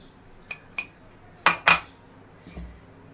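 Wheat kheer being mixed with cardamom and dry ginger powder in a metal pot, with several sharp spoon clinks against the pot, two louder scrapes in the middle, then quiet.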